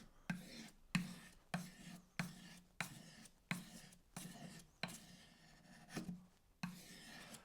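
A spoon carving hook knife being sharpened by hand, with a firm grip on the handle and a wooden dowel, gives about a dozen short rasping strokes in a steady rhythm, close and fairly quiet with no talk.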